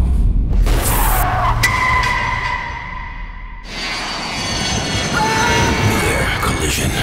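Airliner EA-714 takes off in the video game Crash Point Berlin, its jet engines roaring loud and close with a rising whine, easing briefly midway before building again.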